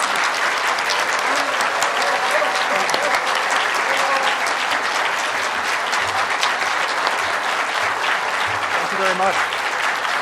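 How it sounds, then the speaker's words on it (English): A lecture audience gives steady, full applause welcoming Matt Mowers to a talk on American politics and U.S.-Asia relations. The clapping is loud and even, sustained for about ten seconds with a crowd murmur beneath. "make a big hand of applause for Matt Mowers"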